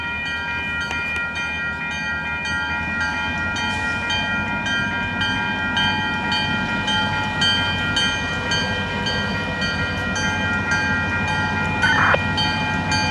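CN freight train 568 departing, a continuous rolling rumble with sustained tonal horn or whistle lines running throughout, fairly loud and steady for the whole stretch, with a brief brighter burst near the end and no voices.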